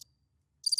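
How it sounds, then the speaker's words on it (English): A cricket chirping sound effect gives a short burst of rapid, high, pulsing chirps after a brief silence. The chirps are close and clear, with no voices. "Crickets while you look it up."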